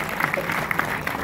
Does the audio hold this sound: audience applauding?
yes